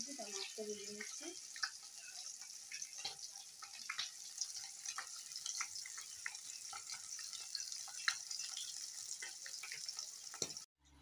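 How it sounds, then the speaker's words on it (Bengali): Fish frying in a pan for a home-cooked fish curry gives a steady, faint broadband sizzle throughout, with a brief low voice-like sound near the start and scattered small clicks. "মাছটা ভাজা আরম্ভ করে দিয়েছি। তার মাছটা ভেজে নিচ্ছি"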